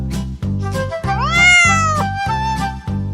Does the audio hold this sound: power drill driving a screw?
no